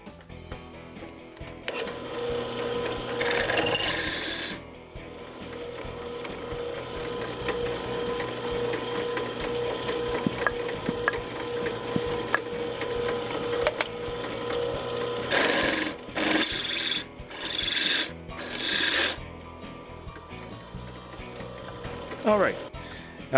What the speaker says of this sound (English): Right now I'm going to start cutting with the drill bit.